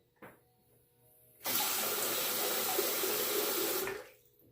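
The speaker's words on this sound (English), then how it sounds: "Time to wet the razor and get shaving." Water runs from a tap to wet a single-blade razor fitted with a Feather FHS-10 blade. After a faint knock, a steady close rush of running water starts, holds for about two and a half seconds, then cuts off.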